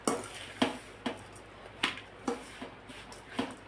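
A spoon stirs a dry mixture of semolina, coconut, cashews and almonds in a pan, scraping in repeated sharp strokes about every half second, close and clear.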